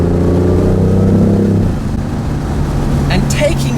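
A BMW i8 Roadster accelerates hard through a corner, its engine note a loud steady drone that drops in pitch partway through before the car pulls on, heard from inside while someone talks over it.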